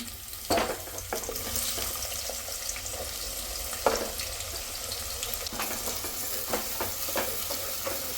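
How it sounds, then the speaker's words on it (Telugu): Sliced onions frying in a pan with cloves, cinnamon and cardamom, a steady moderate sizzle with a few sharp clinks of stirring at intervals, no talk. "ఈ ఆనియన్స్ గోల్డెన్ బ్రౌన్ కలర్ వరకు వచ్చే వరకు ఫ్రై చేసుకోవాలి"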